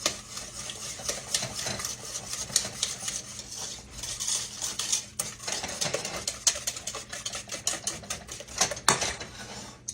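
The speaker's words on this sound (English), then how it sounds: "I'm going to mix my sugar and my eggs real good." Sugar and eggs mixed vigorously in a bowl with a utensil, producing rapid irregular clicks and scrapes against the bowl, close and busy.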